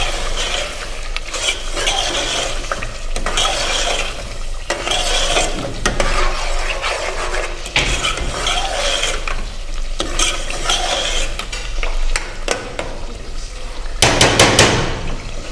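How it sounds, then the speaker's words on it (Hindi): Kachnar gosht, meat browning in oil in a pot, sizzles steadily while a spoon stirs and scrapes against the metal in repeated strokes, close and fairly loud throughout, with a few sharper knocks near the end. "ये देखें हमारा गोश्त जो है वो भुन गया बड़े अच्छे तरीके से और उसका ऑयल भी ऊपर आ गया"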